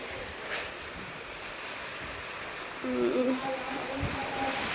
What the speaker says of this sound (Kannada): ಇಷ್ಟು ಗಾಳಿ ಮತ್ತು ಇಷ್ಟು ಮಳೆ ಹೋಯ್ತೈತೆ